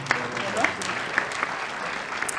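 Applause at an awards ceremony and swearing-in in Marseille, a moderately dense clapping crowd with a few sharper claps standing out, steady for a couple of seconds.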